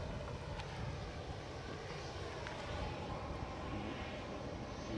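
An airliner departs Edinburgh Airport, heard as a faint, distant, steady engine rumble with a soft broadband hiss and no talk over it.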